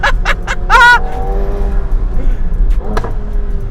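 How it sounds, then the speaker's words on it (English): McLaren 720S in sport mode, loud sharp exhaust pops and crackles from the ignition cut between gearshifts, a few quick bursts over a steady engine drone inside the car, with a person's excited voice briefly heard. "the car actually cuts ignition spark between shifts, and it creates those epic pops and faster shifts"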